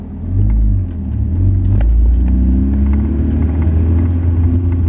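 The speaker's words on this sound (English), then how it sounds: "I'm going down the hill, second gear, brakes on, engine braking, clutch in, neutral, first gear" A five-speed manual car engine hums loudly and steadily while engine braking downhill, the pitch shifting as the gears change, with faint clicks and jingles from inside the car.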